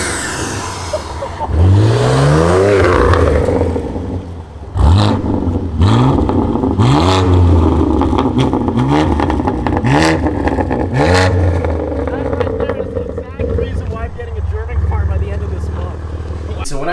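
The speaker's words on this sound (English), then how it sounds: "wait till you guys hear this turbo flutter" Supercharged, cammed sixth-generation Camaro engine revving hard in repeated loud blips, each rise and fall ending in a fluttering chatter, close to the car, with people talking and reacting between revs.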